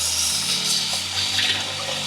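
Running water pours over brown rice as it is rinsed, a continuous splashing gush close by with small sloshing shifts, no voices over it.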